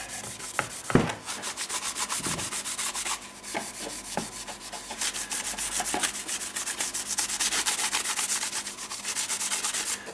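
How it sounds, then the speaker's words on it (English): A Scotch-Brite pad with 409 cleaner scrubs the surface of a Kawasaki KLT 200C in steady, rhythmic back-and-forth rubbing strokes, close and continuous, with a few light knocks. "409 and some polishing Scotch-Brite"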